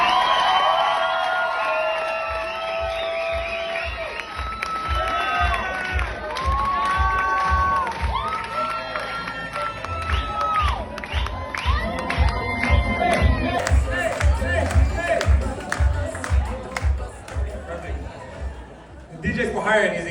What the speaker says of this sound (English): He's like, let them clap it out.